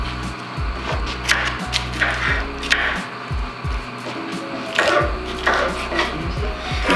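Knife slicing vegetables on a board for homemade red kimchi, a series of irregular close cuts and knocks over a steady low background hum.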